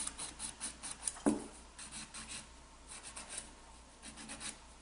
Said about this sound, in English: You don't want it thick, so you can file that down as low as you need to.